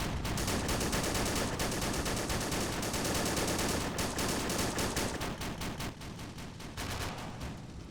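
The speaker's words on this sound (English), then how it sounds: "Let's try and drive up further towards the beach using our 50 caliber machine guns to secure and take out any bunker out there." Rapid machine gun fire rings out during a Pacific island beach assault in a realism-modded war video game, loud dense bursts of rattling shots, with .50 caliber guns among them, continuing without pause and easing slightly near the end.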